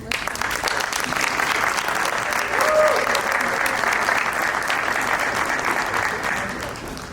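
Sustained audience applause fills the room after a startup pitch at a university pitch competition, a dense steady wash of many hands clapping at close range, swelling slightly midway before easing.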